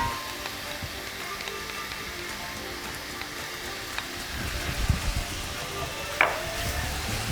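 Onions, carrots and tomato paste frying in a pan for Bovril chakalaka, a steady low sizzle with a few soft clinks and stirring scrapes, no talking.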